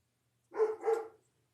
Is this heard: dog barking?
yes